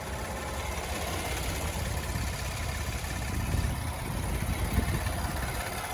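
A 2020 Kia Telluride LX engine idles steadily, a continuous low rumble with faint mechanical vibration, heard up close with no talking.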